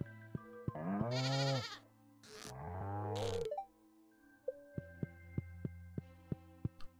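Goats in the farming game Stardew Valley give two or three quick, clear bleats. Crisp game chimes and plinks of background music and sound effects follow.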